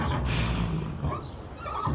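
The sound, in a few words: horse neighing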